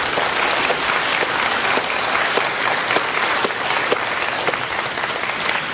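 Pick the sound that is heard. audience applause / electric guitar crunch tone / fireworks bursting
audience applause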